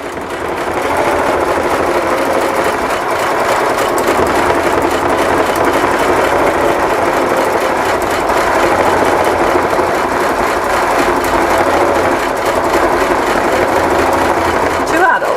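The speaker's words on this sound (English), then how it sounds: "On Sunday afternoon watching an embroidery machine." A home embroidery machine runs steadily on a Sunday afternoon, a continuous mechanical whir with a fast stitching rhythm that holds at even loudness throughout, with people chatting quietly beneath it.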